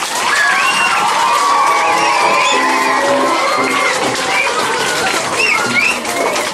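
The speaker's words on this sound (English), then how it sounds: "So give your parents and family a round of applause." A loud crowd at a youth gathering applauding and cheering for parents and family, with shouts, whoops and children's voices layered over sustained clapping, continuous and energetic throughout.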